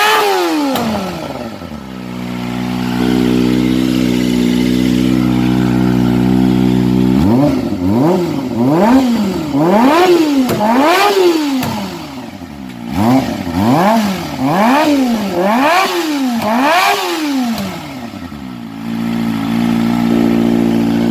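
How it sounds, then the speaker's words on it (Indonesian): Kawasaki ZX25R motorcycle with an aftermarket exhaust, catalytic converter removed, idling and then blipped through a long series of sharp rising and falling revs, loud and close, with no talk. "review pemasangan knalpot untuk ZX25R udah selesai. Suara udah mantap karena katalis sudah dibuang."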